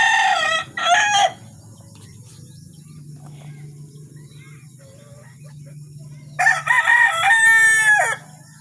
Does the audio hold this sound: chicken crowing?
yes